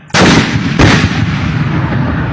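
A Thai army mortar fires with a loud, close boom, quickly followed by a second heavy report that rolls into a long, fading rumble.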